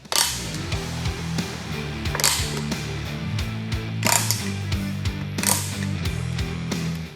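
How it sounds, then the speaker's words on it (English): Pliers tightening a tile levelling system, a close run of sharp ratcheting clicks and mechanical snaps repeating in bursts over several seconds. "And then you use the pliers to tighten."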